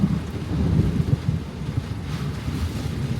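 A thunderstorm with strong wind in Ena, Illinois, a steady low rumbling roar of gusts buffeting the microphone, with rain and thunder blending into the continuous near, loud noise throughout.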